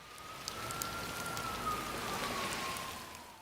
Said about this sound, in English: First time feeling rain in all that time.